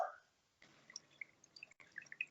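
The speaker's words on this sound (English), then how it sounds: "But because I'm pouring through a coffee filter, it will catch whatever I have." Melted ghee trickles slowly through a paper coffee filter, giving faint, sparse drips and small liquid ticks in a quiet kitchen.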